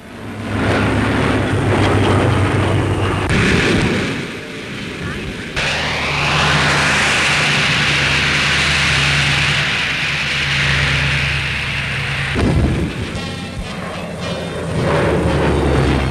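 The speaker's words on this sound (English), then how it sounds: "An American plane landing on loses its emergency tank." An American warplane lands on an aircraft carrier in 1945 wartime footage: a loud, continuous engine roar with broad rushing noise that shifts in texture partway through and carries on to the end.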